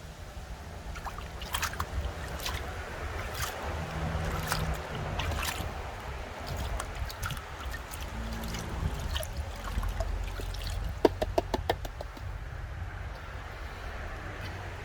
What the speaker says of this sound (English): I'm going to splash some water in.